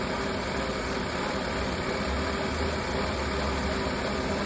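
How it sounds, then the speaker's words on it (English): A 2002 Ford Escape engine with a low idle and a lean condition runs at a steady, close, droning idle throughout, with no talking. "Our long trim fuel trims, they're down to 0. It's starting to misfire now though."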